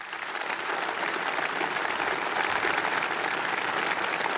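A large audience at the Conservative Party conference applauds Boris Johnson's speech, dense sustained clapping from many hands that holds steady and swells slightly toward the end, with no voices standing out.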